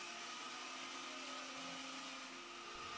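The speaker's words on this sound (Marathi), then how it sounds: "लगेच मिक्सरला दळून घेऊयात." A kitchen mixer grinder whirs steadily as it grinds soaked mixed lentils into a batter, a continuous motor hum heard alone and fairly faint.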